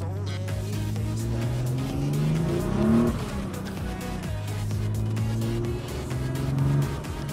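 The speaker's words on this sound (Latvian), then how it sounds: "jāuzsilda mašīnu un jāmauc" A BMW E36 runs with a steady, loud engine drone that swells as it revs and pulls away, the tone rising and falling with no voices over it.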